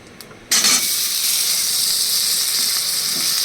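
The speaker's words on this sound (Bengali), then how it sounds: "আলুটা পুরো ভাজা ভাজা হয়ে এসছে" Potatoes dropped into hot tempered oil in a pan for a fish-roe curry, a sudden loud burst of sizzling that settles into a steady, close, bright frying hiss with no talking.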